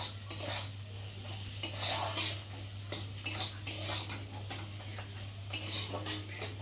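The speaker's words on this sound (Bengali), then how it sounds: "দিয়ে এখন একটু ভালো করে নেড়ে নেব" Scrambled egg seasoned with salt and turmeric being stirred with a metal spatula in a pan while making chowmein; uneven scraping and clinking strokes repeat close by over a low steady hum, with no talking.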